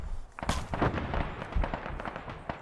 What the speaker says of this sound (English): Oh, they're taking some mortar fire.